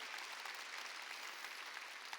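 A church congregation claps steadily at a Wednesday worship service, a dense, continuous wash of applause from a crowd filling the hall, heard alone without talk.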